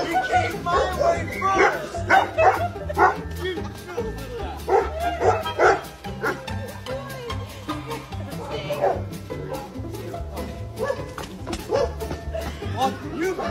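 A dog barks, yips and whimpers excitedly in bursts while people run in opposite directions to see which one it follows, its sounds mixed with frequent overlapping talk and shouting nearby.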